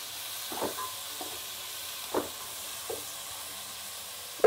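Onions and tomatoes sautéing lightly in a pan, giving a soft, low hiss with a few scattered stirring taps and one sharper clack at the end, fairly quiet and with no voices.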